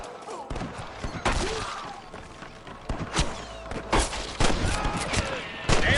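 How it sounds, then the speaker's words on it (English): Western video game gunfire from Red Dead Redemption cracks out in scattered shots and short volleys over a few seconds, loud and close, mixed with game ambience and brief voices. "I can hear more gunshots."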